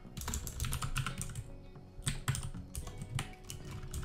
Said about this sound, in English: here we're gonna type target